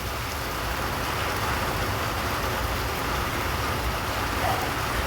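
Steady rain falls throughout, a dense, even hiss with a low rumble underneath and no pauses.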